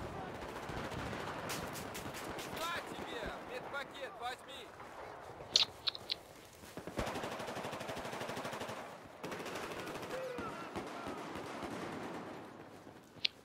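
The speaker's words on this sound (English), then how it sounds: "we started firing at the same time, and he was using a machine gun" Machine gun fire in Battlefield 4 crackles in rapid bursts amid other gunfire and game effects, loud and close, with a voice talking over it.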